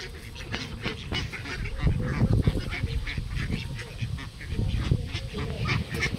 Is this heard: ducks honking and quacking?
yes